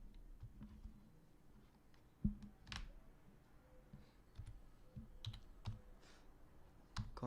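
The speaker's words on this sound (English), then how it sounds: "Then I go ahead and type name," Faint, sparse keystrokes on a computer keyboard while entering data into a spreadsheet, irregular clicks and a few louder taps with quiet room noise between, no voices.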